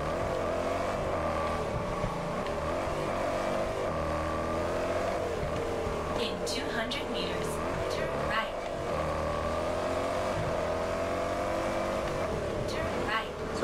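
A car cruising in Test Drive Unlimited Solar Crown, its engine a steady droning hum with gently shifting pitch as it holds speed, close and continuous, with a voice talking over it.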